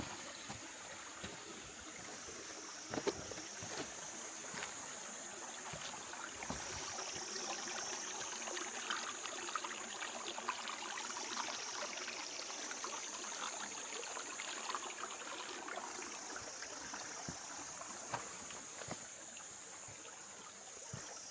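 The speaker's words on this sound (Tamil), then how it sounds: "இப்போ நம்ம அந்த நதியிலே தான் நடந்து போயிட்டுருக்கோம்" Steady river water flows and trickles continuously at moderate level along a humid, mossy, shaded mountain trek route toward Rudradhari, with occasional splashes and footfall knocks as someone wades through the stream.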